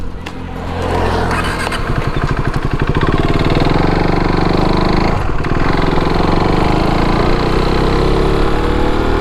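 A KTM RC390 motorcycle engine runs steadily and loudly close by, a low rumbling idle that holds for several seconds without letting up.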